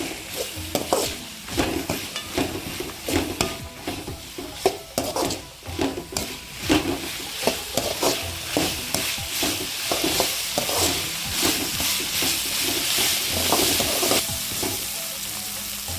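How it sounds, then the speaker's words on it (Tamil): Chopped ridge gourd, curry leaves and tamarind sauté for a chutney in a hot pan, with a constant close sizzle broken by repeated scraping, stirring strokes and light clinks of the utensil against the pan. "எல்லாம் சேர்த்து இன்னும் கொஞ்ச நேரம் வதக்கிக்கலாம்."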